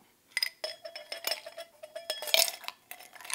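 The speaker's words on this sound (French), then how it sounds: "dans ce verre, on met des glaçons." Ice cubes dropped into a wine glass for a champagne piscine, giving a run of bright glassy clinks and rattles in quick irregular succession, fairly close and moderately quiet, with no talk over them.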